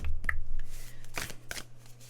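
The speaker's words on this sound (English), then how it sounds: "we're pulling an archetype card" Archetype cards being shuffled, a few brisk riffling bursts close up with soft thumps in between, no voices.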